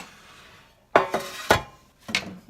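A spoon scrapes and clinks against a bowl and bread pan while batter is moved, three or four sharp metallic knocks and scrapes close by in a quiet kitchen.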